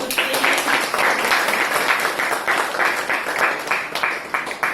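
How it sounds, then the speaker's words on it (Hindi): An audience at a kirtan program at a hospital in New Panvel claps together, a dense and loud burst of applause that holds steady for several seconds. "जोरदार तालियां एक बार"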